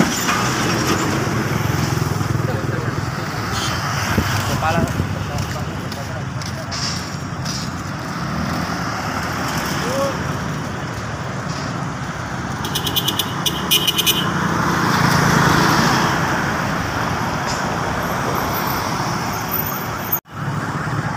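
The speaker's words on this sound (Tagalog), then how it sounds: "Lalaki na mga truck na dumadaan dito kasi highway ito eh." Trucks and other traffic roll past on a Davao highway near a junction under road widening, a continuous loud roar that swells and fades as vehicles pass, with a brief rattle and a sudden sharp click near the end.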